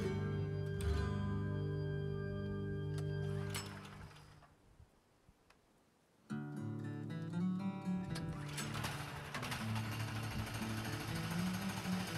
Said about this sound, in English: After changing out the guide bearings on the sawmill and adjusting the tension on the blade, it cuts even better